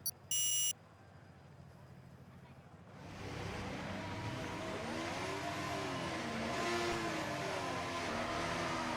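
Race car engine in a racing video game, starting after about three seconds of near-quiet with a short electronic beep early on, then a steady loud engine drone with rising and falling pitch sweeps as the car revs through the gears.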